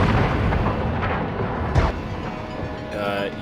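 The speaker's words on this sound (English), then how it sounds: "Your death ray is extremely useful." A saucer's death ray blasts and levels buildings in the Destroy All Humans remake, a dense continuous roar of rumbling destruction with a sharper burst near the middle and a crackling surge at the end.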